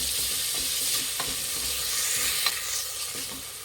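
Chopped mint and coriander stirred into frying masala for a drumstick biryani: a steady close sizzle with scraping stir strokes and occasional light clicks of the spoon against the pot, no voices.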